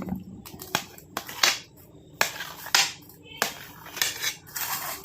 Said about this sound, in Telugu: ఇది ఇప్పుడు రవ్వ బర్ఫీ ఇలా ముక్కలుగా కట్ చేసేసుకుంటే